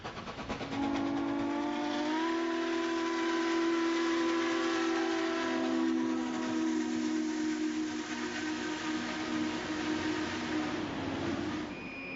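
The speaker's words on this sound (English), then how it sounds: "I love the sound of a steam whistle" Steam locomotive whistle sounding one long sustained chord, loud and clear, holding steady for several seconds with a slight pitch shift near the start and a hissing edge underneath.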